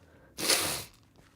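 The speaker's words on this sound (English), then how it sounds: "I don't know if you guys can hear my dad sneezing downstairs" A man sneezes loudly downstairs in a house. It is one sharp, explosive burst lasting under half a second and fading quickly, heard alone with no talking.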